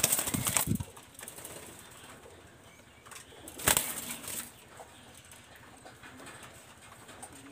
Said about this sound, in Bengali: আর কবুতরটা আমি ছাড়িয়ে দেখাচ্ছি দেখেন।